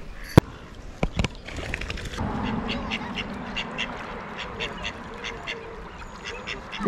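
Ducks at Bibury in the Cotswolds quack in a rapid, repeated series at moderate distance, with a couple of sharp knocks at the start and a soft background hiss beneath.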